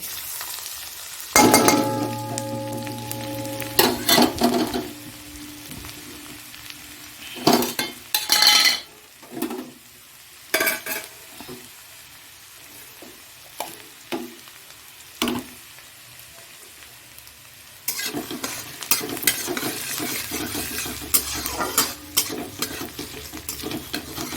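An ingredient hits hot oil in a pan while pasta is being made, giving bursts of sizzling alongside clinks and scrapes of a utensil against the pan, with quieter gaps in between.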